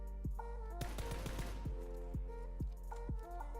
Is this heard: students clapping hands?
no